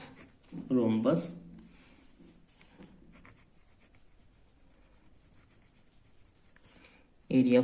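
A pen scratches faintly on paper while a math formula for a rhombus area is written out, the soft scribbling running quietly between short bursts of close speech at the start and end.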